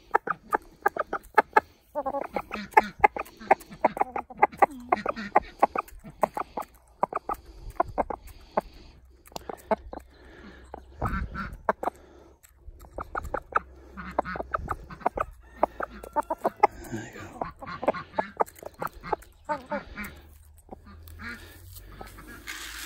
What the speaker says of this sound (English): I might have to find a new cockerel this year or next year.